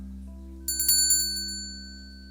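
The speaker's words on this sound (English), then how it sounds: "The bell on the door jingles when I walk through." A bell on a pawn shop door jingles as someone walks through, a bright cluster of metallic rings that starts suddenly after a quiet hum, rattles briefly and then fades out.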